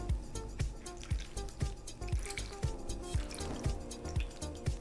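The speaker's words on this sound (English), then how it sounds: "let's go ahead and pour this onto our baking dish" Thick chicken cobbler mixture pours onto a baking dish, giving a series of regular wet plops and drips about every half second, close and fairly loud, with no talking.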